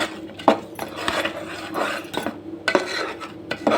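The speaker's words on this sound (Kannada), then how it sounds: "ಚೆನ್ನಾಗಿ ಕಲಿಸ್ಕೊತ ಇದ್ದೀನಿ" A spoon scrapes and clatters against a metal pan while stirring a thick Mysore pak mixture of gram flour, sugar syrup and ghee, with irregular close scraping strokes and sharp knocks.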